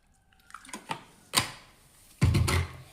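Water goes into a mixer grinder jar holding grated coconut and cumin for a curry paste: a few light knocks and clinks, then a brief, close splashing pour near the end.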